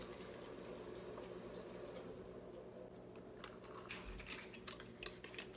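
Ice cubes clink and rattle against the sides of a cup as iced coffee is stirred, light irregular ticks building toward a cluster of sharper clinks near the end, close up and fairly quiet with no talking.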